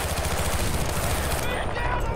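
Rapid automatic gunfire from a weapon in the video game Battlefield: Bad Company, a dense, continuous stream of shots with a very high rate of fire that is loud and steady and does not let up.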